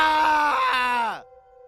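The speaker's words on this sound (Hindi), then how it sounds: "रामू की चीखें गूंजी।" A man screams in terror as sand drags him down, a loud sustained strained cry that falls in pitch and cuts off abruptly, followed by a faint lingering tone.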